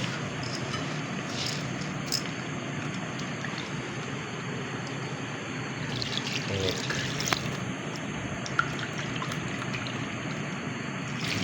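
Water poured into a pot of khichuri being cooked, a soft continuous trickling and splashing over background noise, with faint voices nearby.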